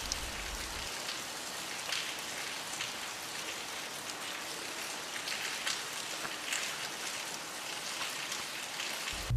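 Steady rain falling on a hard surface, a constant hiss of drops with scattered louder patters, no voices, continuing throughout.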